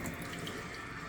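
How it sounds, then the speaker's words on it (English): Tap water runs steadily into a sink to soak a part during an electric bike battery power modification, a continuous even splashing rush at close range with no voices. "I'm just going to soak in some water right quick."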